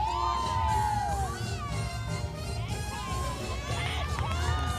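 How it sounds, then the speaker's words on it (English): A crowd of gymnastics team members shouts and cheers the EMU team cheer during a routine, loud and continuous, with whoops and overlapping voices filling the arena. "you get the EMU cheer in the middle of the routine"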